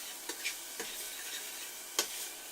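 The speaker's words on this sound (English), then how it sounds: "can you hear that sizzling?" Soft, steady sizzling of eggs frying in a pan for an omelette, quiet and close, with a few faint clicks and taps scattered through.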